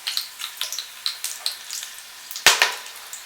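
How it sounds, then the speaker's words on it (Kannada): Whole bay leaf, cinnamon, cloves and shahi jeera crackle and spit in hot oil for a vegetable pulao, a series of small sizzling pops, with a sharper louder burst near the end. "ಎಲೆ, ಚಕ್ಕೆ, ಲವಂಗ, ಸಾಯಿ ಜೀರಾ ಎಲ್ಲನೂ ಈಗ ಹಾಕ್ತಾಯಿದ್ದೀವಿ"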